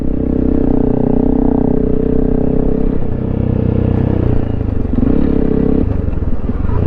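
A Honda CRF300L Rally motorcycle rides off-road, its single-cylinder engine droning loud and steady with small shifts in throttle and a faint rattle of the bike over rough ground.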